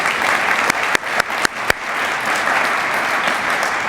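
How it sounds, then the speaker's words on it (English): Audience applause at a community state-of-the-city address, a steady wash of many hands clapping with a few sharper, louder claps standing out near the start, moderately loud and continuous. "That deserves a round of applause"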